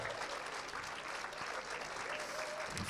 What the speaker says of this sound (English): You've got to keep clapping till they're on stage.